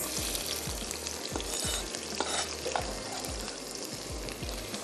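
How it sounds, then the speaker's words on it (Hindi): Onions sauté in a pan with a constant loud sizzle and repeated scraping stirs from a spoon, heard up close and with no talking. "थोड़ा सा इसको सौते करते हैं"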